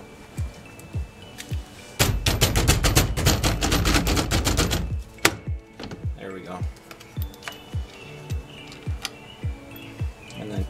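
Nissan 350Z steering wheel rocked back and forth to pull it off during a 370Z wheel swap, giving a rapid burst of rattling clicks followed by sparse knocks and taps close by.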